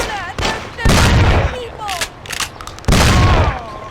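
Gunshots in the Mafia: City of Lost Heaven video game, several loud booming blasts in separate bursts amid shouting voices.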